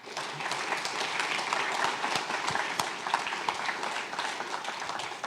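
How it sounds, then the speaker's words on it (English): An audience at an entrepreneurship bootcamp fireside chat applauds, a sustained even crackle of many clapping hands at moderate distance, holding steady throughout with scattered sharper claps. "Let's have a round of applause"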